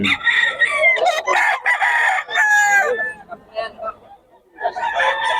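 A rooster crows loudly and close by, a couple of drawn-out calls with clucking between, and another crow begins at the end.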